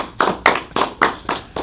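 Short applause for a guest on a talk show, about six loud, evenly spaced claps in quick rhythm, close and alone.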